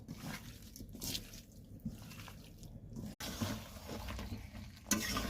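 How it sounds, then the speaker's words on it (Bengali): Hands mixing spices and oil into desi chicken meat, soft wet squishing and sticky patting in an irregular rhythm, close and fairly quiet, with no talking. "এগুলো দিয়ে এখন মেখে নেবো একবারে মাংসের মধ্যে দিয়ে একবারে মেখে নেবো লাস্টে তেল দিয়ে মেখে নেবো"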